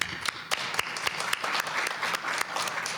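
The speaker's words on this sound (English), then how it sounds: "Let's all give a round of applause" A round of applause from the audience at a school board meeting, lively clapping with sharp individual claps standing out over a steady patter, moderately loud and sustained.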